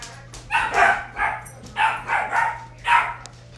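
A dog in the video game Minecraft barks repeatedly, about six short yapping barks in uneven bursts over a steady low hum.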